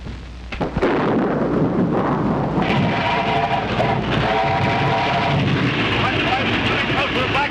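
A heavy thunderstorm over a rushing river, rumbling thunder and a dense roar of rain and wind that builds quickly and holds steady and loud, with a brief tonal hum partway through.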